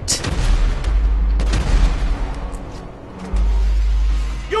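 Gunfire in Grand Theft Auto 5 during a firefight, sharp loud shots and booming blasts over a rumbling background, with a few distinct reports and a heavy low roar near the end.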